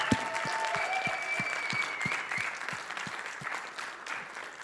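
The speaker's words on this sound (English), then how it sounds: "one more round of applause" Live stage-show audience giving a round of applause, a broad wash of clapping with distinct individual claps standing out, holding steady then tapering slightly toward the end.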